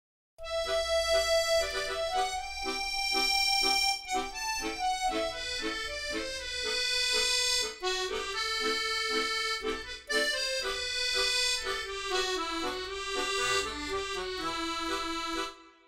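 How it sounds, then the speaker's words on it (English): A virtual musette accordion instrument plays a melody over steady left-hand chords, bright and reedy, moving through changing chords for about fifteen seconds with no talk. "So I'm going to use the musette"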